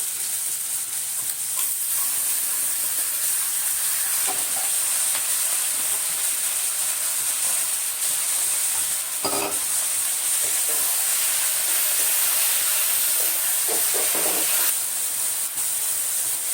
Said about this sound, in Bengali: মাছের ঝোলে আলু আর কাঁচকলাটা আমার ভাজা ভাজা হয়ে গেছে। এখন আমি মশলাটা আমি ওর মধ্যে